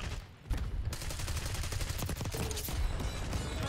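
Rapid bursts of automatic gunfire in Call of Duty Black Ops 6 crackle loudly and repeatedly across the clip, with a brief lull near the start before steady overlapping shots resume.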